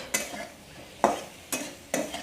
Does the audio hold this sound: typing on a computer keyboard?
no